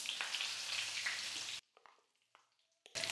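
Curry leaves hit hot oil for a tempering in a pan, a loud crackling sizzle that cuts off to near silence, with faint pops, before the frying hiss resumes.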